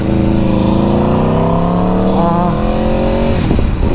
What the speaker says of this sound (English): There's a Camaro, is that a ZL1? Or 1LE?